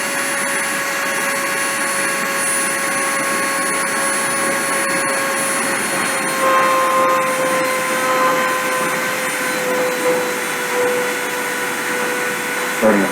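A CNC spindle running at 30,000 RPM while milling aluminum oxide gives off a steady, loud high-pitched whine with shifting tonal overtones, continuous throughout.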